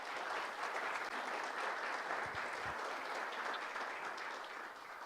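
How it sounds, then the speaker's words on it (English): A large audience claps in a steady, dense round of applause filling the room at a public-affairs policy session, sustained evenly throughout with no voices over it. "I would like you to join me in a round of applause and thanksgiving to these representatives"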